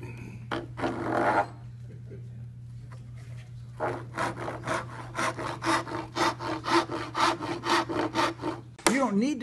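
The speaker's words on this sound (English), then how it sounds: "I'm not forcing the saw at all." A brass-backed dovetail saw cuts through wood by hand, with a close run of even, rhythmic rasping strokes that steadily grow stronger, over a low steady hum.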